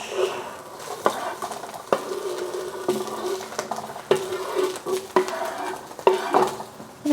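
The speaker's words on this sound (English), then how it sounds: "Stir that around for a little bit" Mushrooms and sausage are stirred in a pan for a sticky rice dish. A spoon clinks and scrapes against the metal at irregular intervals over a low, soft sizzle, close and moderately loud, with no voices.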